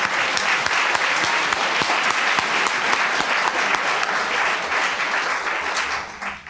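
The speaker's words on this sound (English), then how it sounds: "Can you guys give yourself a round of applause?" Audience at an awards ceremony in a public library breaks into sustained applause, a loud, dense stretch of clapping that carries on steadily before tapering off at the end.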